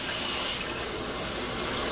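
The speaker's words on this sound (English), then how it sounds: "Warm water out the tap." Warm water running steadily from a kitchen tap, a continuous hissing gush heard close and alone.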